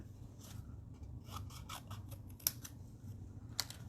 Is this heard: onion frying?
no